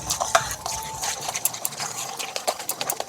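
Flour, salt, sugar, baking powder and baking soda are stirred together in a bowl, giving quick, rhythmic scraping and light clatter at close range.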